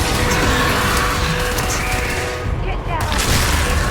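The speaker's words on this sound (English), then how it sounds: "I'm throwing nades" Grenades explode amid gunfire in Starfield combat, a dense, loud wash of blasts and rattling shots that runs almost without a break, with a brief dip near the end.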